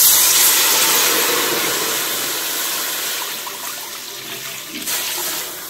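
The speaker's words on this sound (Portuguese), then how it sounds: "1 litro de água, coloca na sua panela." One litre of water pours into a cooking pan while pastry dough for baked pastel is being made, a broad steady rushing stream that is loud at first and slowly eases, with a short splashy surge near the end.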